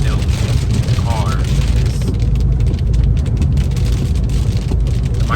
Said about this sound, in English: Hopefully y'all can hear me over the rain as well because it's raining.